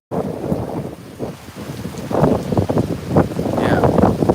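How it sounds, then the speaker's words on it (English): Strong gusts from a severe thunderstorm at Rockaway Beach buffet the microphone with loud, roaring rumbles that swell and surge in waves, growing heavier toward the end, with surf-like noise beneath. "The wind tunneling effect is very noticeable here."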